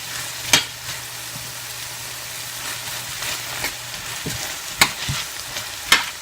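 Colorful vegetables frying in a pan, a soft steady sizzle punctuated by a few sharp scraping stirs spaced a second or more apart, close and without talk.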